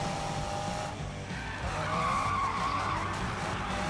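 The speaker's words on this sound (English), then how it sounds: "Using the e-brake to drift," Car drifting on the e-brake in the Need for Speed video game, a sustained loud tire skid and squeal over engine roar, rising in pitch midway and carrying on without speech.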